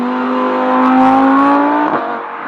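Audi R8 V10 Plus (2016) engine revving loud and close, a steady rising tone climbing smoothly through the revs with a brief blip near the end, no talking.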